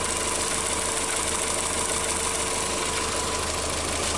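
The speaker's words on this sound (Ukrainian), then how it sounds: "файно тихенько працює двигунчик" A VW Bora engine idles after an engine repair, a steady, even mechanical hum with a faint ticking texture running unbroken and fairly loud, close by with no talking.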